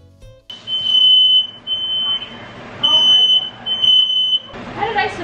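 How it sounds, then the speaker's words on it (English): A kitchen smoke alarm beeps in loud, piercing bursts while noodles boil, repeating with short breaks, while kitchen clatter and voices continue underneath. "after the fire alarm went off"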